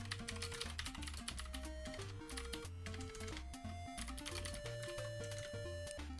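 Steady clacking of a computer keyboard, fast and continuous, close up, over a background of music.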